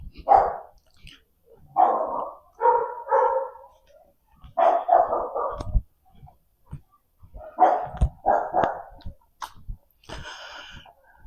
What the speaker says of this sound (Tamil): ஆனால் எல்லா வீட்லேயும் நாய் வளர்க்குறாங்க.